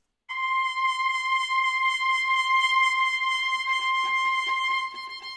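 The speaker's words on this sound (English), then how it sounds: "the viola continues, sounds like this." Solo viola holding one long sustained bowed note, a steady bright tone with rich overtones entering after a brief silence, played alone in a heavy Christmas music track, with faint softer notes appearing near the end.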